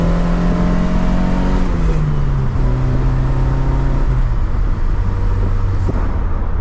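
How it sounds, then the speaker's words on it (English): The engine of an abandoned Toyota AE86 that has been revived revs loudly and close up. Its pitch sinks very slowly as the revs hang and drop, over a steady, gritty mechanical drone. "A lot of rev hang. The RPM drops so slowly."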